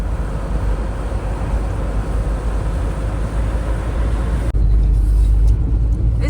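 A car driving at a large building-materials yard gives a steady, loud low rumble of engine and road noise throughout, shifting to a heavier, deeper drone partway through.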